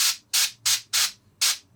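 Five short bursts of an airbrush spraying paint onto a miniature figure's tabard, close and crisp hissing puffs in an uneven rhythm with brief quiet gaps between them.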